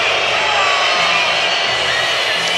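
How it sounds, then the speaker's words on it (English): A basketball crowd at a FIBA EuroBasket 2017 game, Finland against Slovenia, roars in protest at the officials, a loud, dense and sustained wash of voices, whistles and shouts with a commentator talking over it. "The crowd again making their displeasure felt to the officials."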